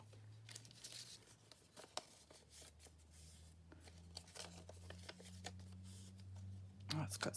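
Tea-dyed paper torn by hand into rough-edged pieces for faux stamps, giving scattered short tearing and crinkling bursts close by, with speech running through the clip and a low hum underneath.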